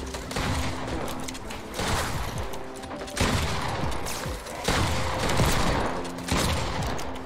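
Rapid gunfire from the Fortnite video game rattles in continuous bursts, dense and steady with periodic louder volleys, no talking over it.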